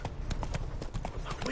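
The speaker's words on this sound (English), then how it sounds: "Spooking my horse." Horse hooves clip-clop in a brisk, even rhythm within The Witcher 3, close and clear over a dense bed of game ambience.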